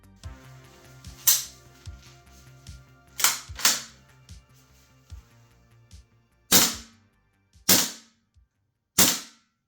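A Tokyo Marui AKM gas blowback airsoft rifle fires a series of sharp, close snapping shots, each with a metallic bolt clack, spaced unevenly at first and then as separate single shots with short pauses between.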